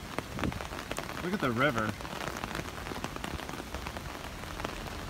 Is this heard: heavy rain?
yes